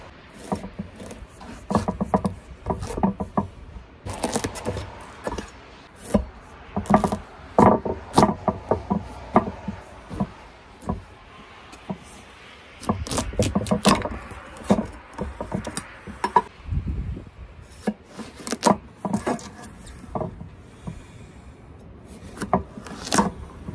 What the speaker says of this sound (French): En premier, pour couper la courge géante.